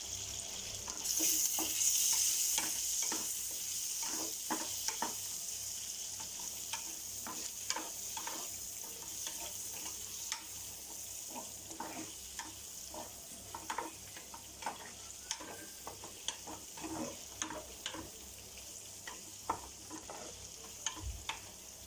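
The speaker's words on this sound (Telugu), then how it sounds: "ఫ్రై అవుతుందండి. ఇది కూడా సిమ్లో పెట్టి ఫ్రై చేసుకుంటున్నాను." Mutton fry sizzles gently in a pan over a low flame, a quiet, continuous hiss broken by frequent small clicks and scrapes of stirring, with no talking.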